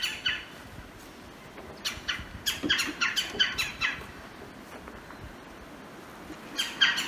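A woodpecker's chirr call, a common woodland and swamp bird in Mississippi, comes in repeated short raspy bursts at moderate distance, clustered in quick series with brief pauses between them.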